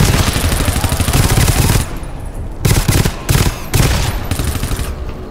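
Rapid automatic turret fire in a multiplayer shooter game, loud and close, in dense bursts with short gaps between volleys.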